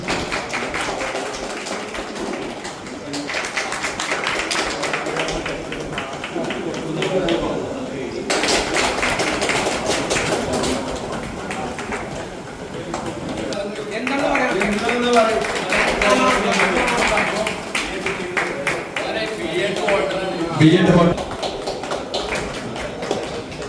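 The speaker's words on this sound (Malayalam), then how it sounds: "എല്ലാവരും കൈയടിക്കും." Audience applause at a Wandoor walkers' association event honouring students, a sustained broadband patter of clapping running throughout with brief swells, heard alongside crowd noise and some talking.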